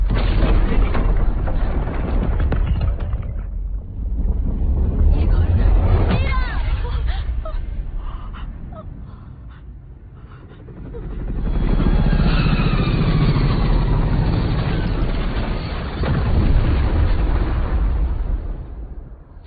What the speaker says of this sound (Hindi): गोल्डन हॉर्न खाड़ी में एक छोटे टैंक का विस्फोट ट्रांस अटलांटिक टैंकर में हुआ है।